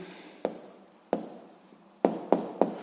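Pen strokes on paper as an answer is written down by hand, five sharp separate taps or scratches spaced irregularly over a quiet background, close and clear with no talking.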